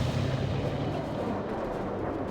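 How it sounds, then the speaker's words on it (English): Cannon artillery fire from a World War II-era real-time strategy battle between US and Soviet armies, a dense, continuous rumbling barrage of booms filling the whole clip at steady loudness with no voices. "Cannons, fire."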